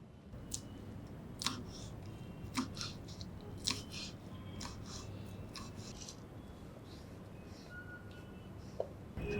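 Betel leaves being cut into small pieces with a series of crisp, irregular snips close by, over a quiet background hiss.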